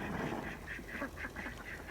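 Several ducks quack in a short repeated series at moderate distance outdoors, with steady background noise underneath.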